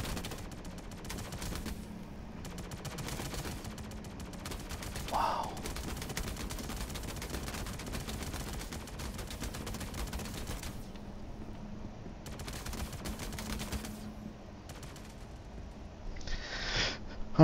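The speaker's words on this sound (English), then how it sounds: "Oh, there's definitely more than one guard shooting." Guards firing guns in the survival video game Klesher, a steady spatter of gunfire shots running throughout at mid distance, with denser bursts in places and a faint rising hiss near the end.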